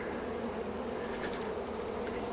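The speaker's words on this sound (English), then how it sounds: "Look at all the bees. Can you hear them?" Caught swarm of honey bees buzzing inside a box, a dense steady drone that stays even and close throughout, with no voices.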